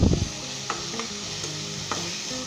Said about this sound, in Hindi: 2 से 3 मिनट तक हम भूनेंगे अपने वेजिटेबल्स को